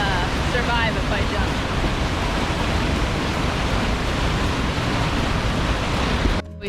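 A waterfall in an Alaskan temperate rainforest pours with a loud, steady broadband roar that stays close and unbroken for several seconds before cutting off abruptly.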